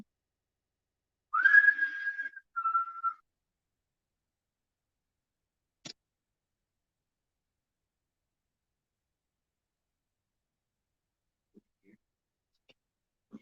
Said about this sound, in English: I started whistling.